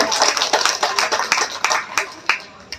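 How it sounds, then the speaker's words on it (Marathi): Scattered hand claps ring out in uneven bursts, with voices murmuring underneath, applauding the organizers at a Buddha Purnima event. "आयोजकांसाठी एकदा जोरदार टाळ्या झाल्या पाहिजे"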